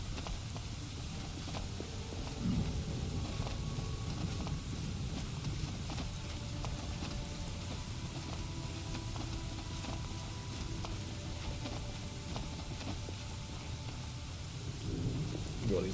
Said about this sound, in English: This blood rain is bloody great.